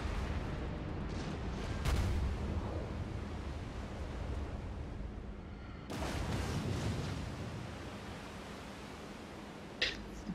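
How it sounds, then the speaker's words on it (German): Cleveland cruiser guns firing in the naval battle game World of Warships, a couple of dull booming salvos over a constant wash of sea and engine rumble, fairly distant and muted, no talk. "Da kommt der Beschuss der Cleveland."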